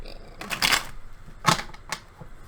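Tarot cards being shuffled during a reading, heard as three quick riffling bursts of papery flutter, close and fairly soft, the first one longer than the other two.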